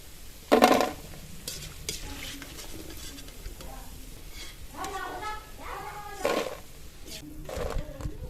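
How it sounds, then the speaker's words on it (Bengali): Palm fruit fritters (tal bara) made with rice flour sizzle and crackle in hot oil, a steady frying hiss with a sharp clatter near the start and occasional stirring scrapes, while a voice talks over it. "বাকিগুলো একইভাবে এরকম ছোট ছোট করে দিয়ে ভেজে নেব।"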